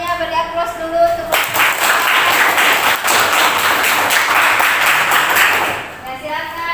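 A classroom of students applauding a group, a dense burst of clapping that rises quickly, holds for several seconds and fades out, with talking just before and after.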